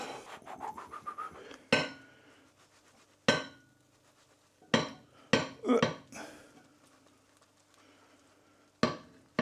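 Food being dished up onto plates, with sharp clinks and scrapes of cutlery against crockery arriving in irregular bursts and quieter gaps between them.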